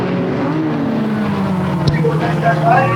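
Race cars at Flamboro Speedway run side by side in an enduro, a steady loud engine drone with a brief sharper burst near the end, heard under a commentator's voice.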